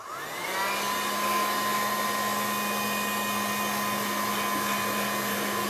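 A hair dryer blows steadily on a mixed media seashell craft canvas, a continuous close, loud whirring hum with a strong low tone that holds evenly throughout without pause.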